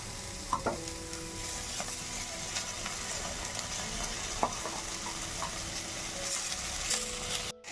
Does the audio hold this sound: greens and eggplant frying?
yes